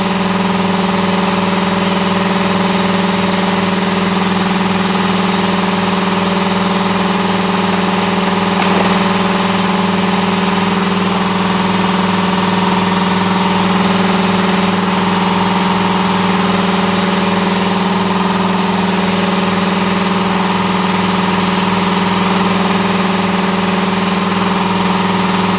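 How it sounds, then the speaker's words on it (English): Air compressor running steadily, its noise venting out at the first compressor stage, a loud constant drone with a strong low hum and an even hiss, unbroken and alone for the whole stretch. "a lot of the noise is coming out of that vent right there, because that is right at the first stage of the compressor"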